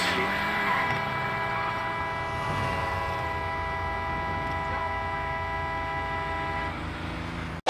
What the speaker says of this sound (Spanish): escucharemos el claxon del vehículo debido al peso del cuerpo sobre el volante